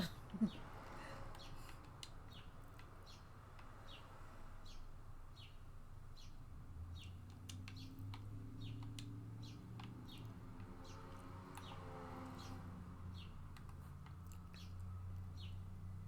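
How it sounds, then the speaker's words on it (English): Faint, repeated bird chirps come from a distance outdoors in a steady rhythm, over a quiet low hum. "And the birds outside are so loud."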